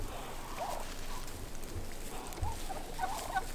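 Pet birds in a backyard coop, with ducklings among them, give a few faint scattered calls against a quiet background.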